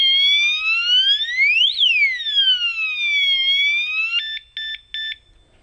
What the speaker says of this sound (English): when I cross over the driveway or a vehicle or anything comes across, it will go off and make that alarm